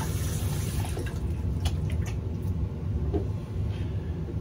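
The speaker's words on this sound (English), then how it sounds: "Rinse my hands here." Running tap water splashes steadily over hands being rinsed at a sink, a continuous close wash of water with small drips and knocks and no talking.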